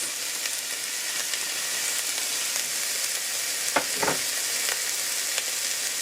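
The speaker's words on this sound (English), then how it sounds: "and add my onions. I'm gonna add my carrots." Onions and carrots fry in a pot as the base of a cannellini bean soup with kale, giving a steady close sizzle and crackle with a couple of brief stirring scrapes partway through.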